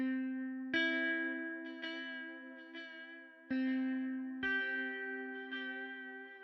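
A Chill Guitar preset in FL Studio plays clean electric guitar notes with a long trailing echo and a wavering warble, several plucked notes ringing out and decaying into one another in a spacious ambient wash, with no voices.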